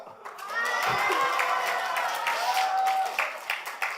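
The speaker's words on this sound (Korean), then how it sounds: "이스라엘 백성들이 드디어 이 하나님의 언약궤가 왔다고 하면 환호성을 지르면서 소리를 막 치고 막 난리가 난 겁니다" Church congregation shouting and cheering together in a loud sustained roar of many voices with some clapping, rising after a brief spoken cue and fading into scattered calls at the end.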